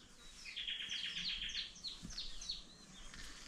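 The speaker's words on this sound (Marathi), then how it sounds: "पाखरांचा आवाज येतोय बघा" Small birds chirping and twittering in a quiet Konkan village setting, a busy overlapping stream of high quick calls at moderate distance, with faint low background rumble and no talk.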